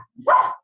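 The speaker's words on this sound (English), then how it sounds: "He's an Italian water dog. He looks kind of poodly," A Lagotto Romagnolo, a curly-coated Italian water dog, gives one short, sharp bark, close and clear, with a soft lead-in sound just before it in an otherwise quiet room.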